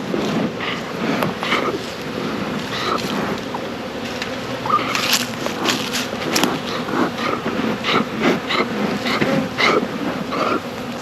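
Honey bees swarm around a hive in a robbing frenzy, a dense, close buzzing drone with individual bees zipping past the mic in frequent loud passes.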